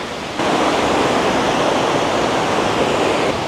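Steady roar of a waterfall at Saltos de Jima in the Dominican Republic. The broad rushing water is close and loud, and it grows fuller after a brief quieter start.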